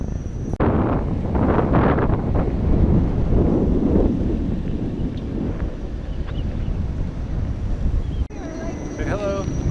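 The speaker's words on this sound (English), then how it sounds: "Back on the windy section." Steady roaring wind noise on the microphone while riding a motorcycle on a winding section, a constant low rumble as if moving fast outdoors, with brief faint voices near the end.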